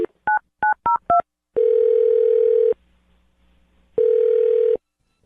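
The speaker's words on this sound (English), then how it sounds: "I'm going to dial his phone number right now" A telephone keypad dials a number with five quick DTMF tones, followed by two long steady ring tones separated by a pause, loud and close with no talking.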